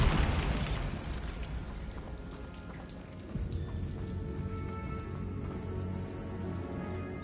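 Bombarda blast spell in Hogwarts Legacy, a sharp bright burst at the start that decays into a crackling, hissing debris-like wash, followed by a softer thump and lingering rumble, with no speech.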